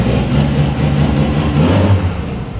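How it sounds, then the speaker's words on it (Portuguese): A Chevette with a turbocharged AP engine revs loudly up close, a rough, continuous throaty drone that rises and falls slightly as the throttle is held, with no voices. "Acelera, acelera mais."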